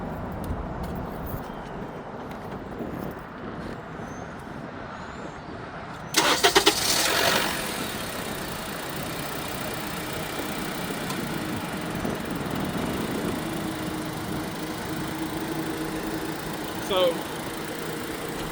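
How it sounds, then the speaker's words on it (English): A car engine cranks briefly, catches and settles into a steady idle that runs on, with a faint voice briefly in the background. "So the car cranked right up."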